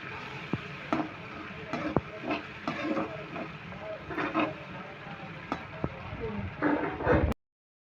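Cabbage manchurian fries in a pan as chilli sauce is stirred in, giving a steady sizzle broken by repeated scraping spoon strokes close by, with no talking.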